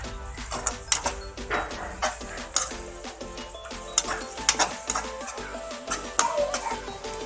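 Spiced masala cooking in a pan after water is added, with steady sizzling and bubbling under repeated clinks and scrapes of a spoon against the pan, close and busy throughout.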